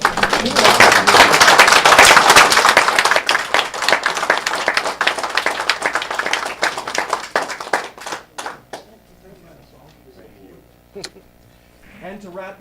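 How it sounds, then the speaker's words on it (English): Applause for World War II veterans at a Yamhill County veterans ID card kick-off event: loud, close clapping from a crowd that thins into scattered individual claps, with talk and murmurs underneath. "Let's give them a round of applause."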